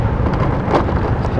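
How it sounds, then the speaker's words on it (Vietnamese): A sudden downpour with thunder in Bạc Liêu: loud, close, rumbling roar of heavy rain and deep thunder filling the whole moment without letup. "thì trời bỗng nhiên nó đổ cơn mưa quý vị ơi"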